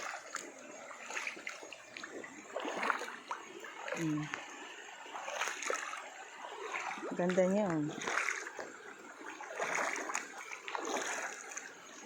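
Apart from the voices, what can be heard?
water splashing in stream while doing laundry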